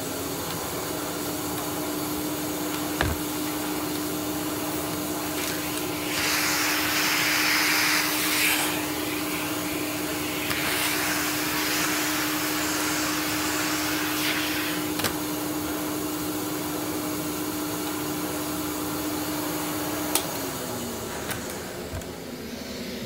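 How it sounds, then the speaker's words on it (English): A 1965 Electrolux ZA65 vintage canister vacuum runs with its wand and floor tool fitted, a steady close motor whine with a constant tone, the suction roar surging as the tool is pushed across the floor, a couple of sharp knocks, no talk. "We'll put the wand on, and we'll put the floor tool on. We'll move that out of the way, and we'll see what it's like at vacuuming."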